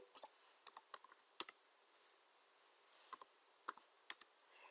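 Light, scattered keystrokes on a computer keyboard entering a command into a Cisco switch, short clicks in small irregular clusters with quiet gaps, faint and close against near silence.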